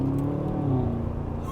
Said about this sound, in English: Even on comfort mode, the engine is so reactive.